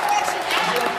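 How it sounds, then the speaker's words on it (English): An audience at an anime convention panel claps in a short, dense burst of applause while a voice talks over it. "You can clap for that"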